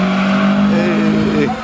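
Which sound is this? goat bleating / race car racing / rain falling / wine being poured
race car racing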